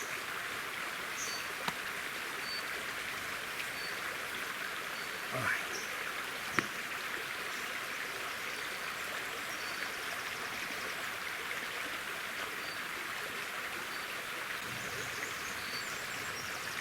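A mountain river in the Caucasus flows in a steady, broad rushing wash with no pauses, carrying a few faint clicks and knocks on top.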